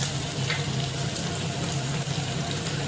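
Carrots and other vegetables for orange upma fry in hot oil in a pan, giving a steady, close, continuous sizzle with no talking.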